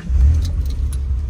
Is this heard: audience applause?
no